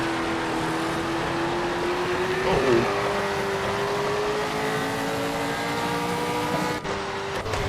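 Porsche race car engine in a racing video game, a steady sustained drone with a slowly rising pitch, loud and continuous, dipping briefly before settling again near the end, no voices.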